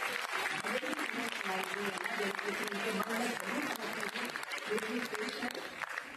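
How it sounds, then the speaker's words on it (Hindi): An audience at the Swaranjali 2023 music and arts program in Chandigarh applauds student dance performers, dense continuous clapping throughout with music and a voice faintly underneath. "तालियों से उनका उत्साह वर्धन करते"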